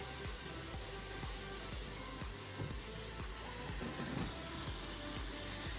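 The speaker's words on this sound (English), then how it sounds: "So, potatoes are cooking." Diced potatoes for a Spanish lentil soup cook in a pan on the stove, giving a steady close sizzle with light clinks and bumps throughout, and no talking.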